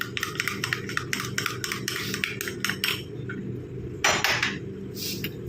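A spoon stirs a gram flour face pack in a small bowl, making quick rhythmic clinks and taps against the rim that run steadily before pausing, then a louder scraping burst near the end, close and clear.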